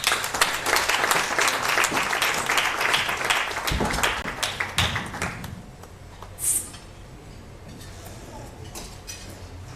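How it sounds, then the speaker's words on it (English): An audience at an evening network session event in a garden cafe claps in warm applause, dense and sustained for several seconds before thinning out, followed by quieter room ambience with a faint clink. "Please give a warm round of applause"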